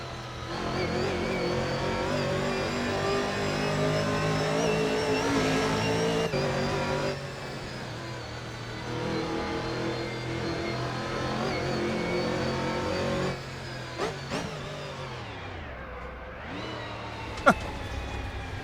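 A Camaro race car in Assetto Corsa on the Horsma Raceway mod track, its engine droning steadily and loud with rising and falling revs, then dropping low and swooping back up near the end.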